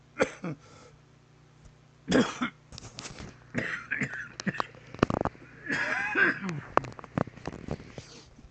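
A few sharp coughs and throat-clearing bursts break up quiet talking, close to the microphone in an otherwise still room.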